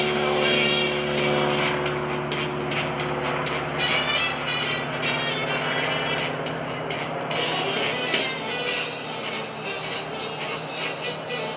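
A Stearman biplane's propeller engine drones loudly and continuously at an airshow, its roar rising and falling slightly as the aircraft moves.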